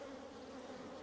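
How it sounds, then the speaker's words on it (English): A dense, even hum of many bees fills a brief moment inside an open hive, faint and continuous. "there's a lot of bees in here"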